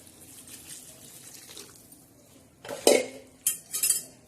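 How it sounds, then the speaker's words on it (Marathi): Water is poured into a metal pot on a gas stove with a splashing gush, followed by clanks of utensils against the pot after a quiet start, while cooking aubergines. "आता हे पाणी मी त्याच्यात टाकणारे"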